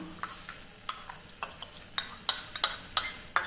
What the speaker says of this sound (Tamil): இப்போ இது நல்லா கலந்து விட்டுடலாங்க